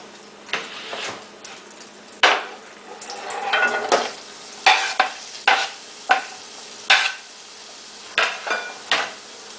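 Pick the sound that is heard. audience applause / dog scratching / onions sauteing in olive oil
onions sauteing in olive oil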